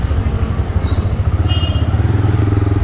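A ride-hailing motorcycle running along a road near Kaushaltar, Bhaktapur, its engine giving a loud, close, rhythmic putter that stays steady throughout with a faint tonal whine over it.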